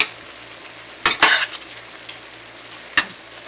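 Heated corned beef folded into sauce in a pan on a switched-off burner: two distinct scraping stirs of the spoon against the pan over a faint low simmer, close, with no voices.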